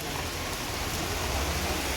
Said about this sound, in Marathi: मित्रांनो पाऊस आलाय, पाऊस भरपूर पाऊस आलाय बघा